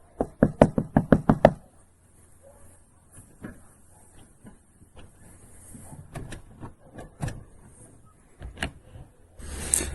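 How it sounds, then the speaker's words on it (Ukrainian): A rapid burst of about eight firm knocks on a door, close and loud, then quieter shuffling, thumps and movement noises follow. "Стучим в двері, хай просипається."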